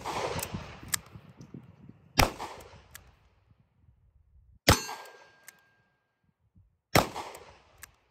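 Four sharp, loud gunshots from a pawn shop gun ring out one at a time with long pauses between them, each cracking close and trailing off with a short echo outdoors.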